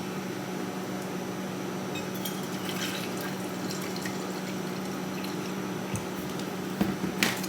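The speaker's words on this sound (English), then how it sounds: "And I'm pouring it into my little purple Stanley." Starbucks sweet black medium roast iced coffee poured into a purple Stanley cup, a faint steady liquid trickle over a low background hum, with a few soft clinks near the end.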